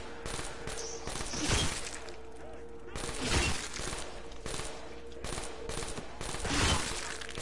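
Gunfire rips through zombies in Black Ops 3 Zombies mode in several separate bursts spaced a couple of seconds apart, with game noise and voices around them.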